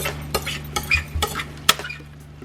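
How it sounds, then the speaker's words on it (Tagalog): Carrots are stirred into sizzling ground pork giniling in a pan, with a spoon scraping and clinking against the metal several times over a soft frying hiss and low hum. "we're also gonna add our carrots. So mix them well."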